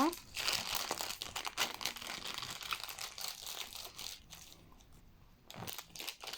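Soft plastic packaging of a Barbie Color Reveal toy crinkles and crunches close up as it is pulled and torn open, in irregular bursts that fade toward the end, with quiet talk in the background.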